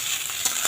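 Leftover rice frying in a pan gives a brief, moderate sizzle, with a couple of soft stirring scrapes near the end and no voices.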